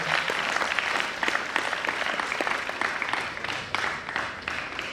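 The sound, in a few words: audience applause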